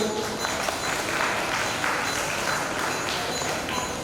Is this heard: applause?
yes